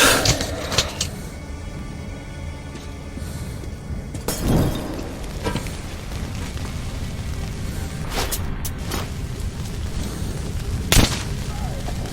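An incendiary explosion goes off during combat in the game Metro Last Light, with a sharp bursting crash over a dense, continuous roar of noise and a few later impacts.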